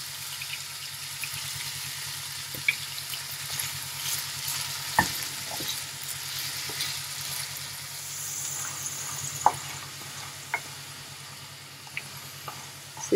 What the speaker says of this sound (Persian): بعد داخل روغن سرخش میکنیم.